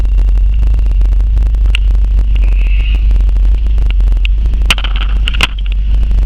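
Vintage car engine with an MSD ignition idling after start-up, a loud, steady low rumble with a faint ticking and a few sharp clicks.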